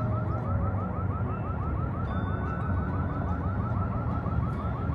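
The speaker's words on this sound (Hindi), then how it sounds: "जो फायर अलार्म होता है ना वही बज रहा है." An alarm wails steadily out in the street, sweeping up and down in a continuous repeating cycle that stays loud and constant throughout, with no voices over it.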